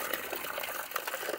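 Cold hill water flows steadily from a pipe at a worksite, a close, continuous gushing splash with no pauses.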